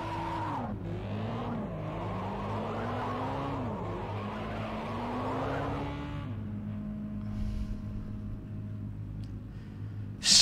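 Race car in the Project Cars 2 video game doing donuts, with tires skidding and squealing in a wavering, continuous screech over a steady engine drone for about six seconds, then the engine idling on alone.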